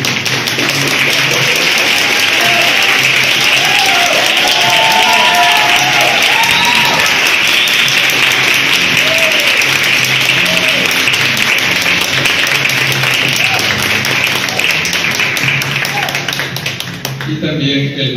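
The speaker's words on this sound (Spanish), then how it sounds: "por el maestro Francisco José Grijalva Vega, para el cual pido un aplauso." A concert audience applauds the conductor of a university choral ensemble, long continuous clapping that holds steady and fairly close, with scattered voices calling out early on before it tapers slightly at the end.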